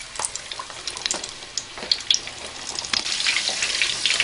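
Katlamma frying in hot oil in a kadai: a bubbling, hissing sizzle with little crackles that swells into a steadier rush toward the end, close and fairly loud.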